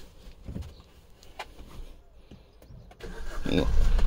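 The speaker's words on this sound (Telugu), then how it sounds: "ఇంజన్ సౌండ్ స్టార్ట్ చేసి చూపించాను మొత్తం" A 2019 Maruti Ertiga ZDi Plus diesel engine is started after a stretch of quiet handling noises and faint voices; it cranks and catches in the last second, rising into a loud, rough rumble.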